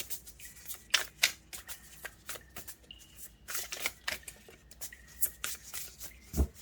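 Tarot cards shuffled and handled at close range, a run of crisp riffling snaps and soft slides with sharp card flicks scattered throughout, no voices.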